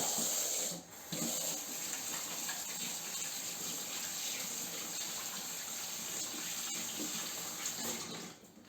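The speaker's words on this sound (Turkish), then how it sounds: "Yer kaplamasın diye şu ellerini bir şöyle yıkayayım." Hands being rinsed under a running kitchen tap during preparation of minced-meat stuffed peppers, a steady close hiss of flowing water that briefly cuts out near the start and fades at the end.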